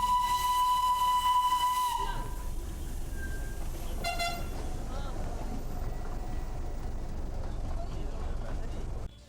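The Darjeeling toy train gives a loud, steady whistle blast lasting about two seconds and then breaks off sharply. After it, a busy mountain station murmurs with voices and traffic, and a couple of brief higher toots cut through the crowd noise.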